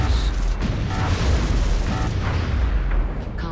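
In XCOM: Enemy Within, a standard interceptor fires Avalanche missiles during an air engagement. Dense booms and bursts sound over a continuous loud mechanical roar, with several sharper impacts spread through the clip.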